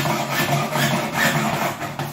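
A hand saw cuts through a plastic toilet cistern mounting plate with a steady rasping, rubbing stroke. It sounds close and moderately loud, with a few uneven pushes and no voices.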